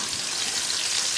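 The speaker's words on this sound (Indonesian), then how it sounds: "Sekarang kita mau tumis bumbu-bumbunya pakai minyak bekas goreng ayam tadi" Shallots and garlic sauté in leftover oil from frying chicken, giving off a dense, continuous hiss and crackle up close, with no pauses.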